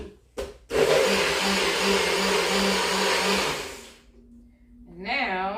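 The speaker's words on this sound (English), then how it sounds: "I'm going to blend the remainder of my celery." A blender whirs loudly through chunks of celery, a dense roaring spin that holds steady for about three seconds before cutting off, with a brief voice heard afterward.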